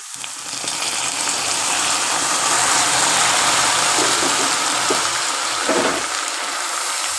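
Water poured slowly into a pan of darkened caramelized sugar, a loud steady hissing sizzle with bubbling that holds throughout, a few sharper gurgles toward the end.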